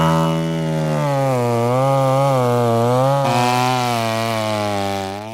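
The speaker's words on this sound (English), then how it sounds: "the chainsaw is used as its tip cuts down at an angle into the roots" A chainsaw bites down at an angle into tree roots, its engine loud and close with a buzzing whine that dips and rises in pitch as the cut loads and eases.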